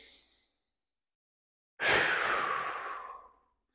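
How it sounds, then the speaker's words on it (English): A single long, deep breath taken during a hip flexor stretch for back pain: a faint tail of air at the start, then a quiet pause, then a full, close, drawn-out exhale that slowly fades. "Long inhales, long exhales."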